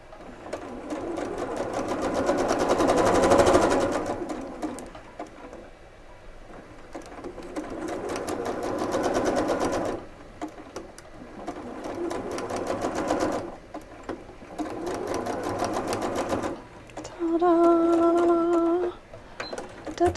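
Sewing machine stitching quarter-curve quilt pieces for a La Fin du Monde quilt, running in several loud bursts of rapid needle chatter separated by short pauses, with a brief softer run near the end.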